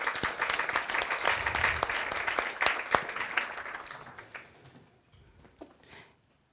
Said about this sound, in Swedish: Och en varm applåd till dig.